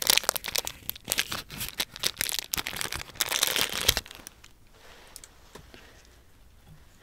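Crinkly plastic packaging gets peeled back by hand, a dense, close crackling and tearing for about four seconds before it drops to a few faint ticks and rustles.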